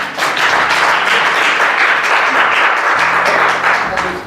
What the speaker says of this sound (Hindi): और हमारे युवा के लिए ना एक बार जोरदार तालियां बेटा